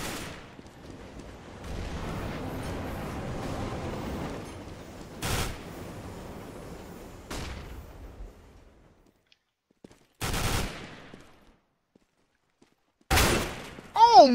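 Shotgun gunfire in a Counter-Strike match on Overpass, with several loud sharp blasts spaced apart between quieter stretches and game sounds, alongside excited commentary.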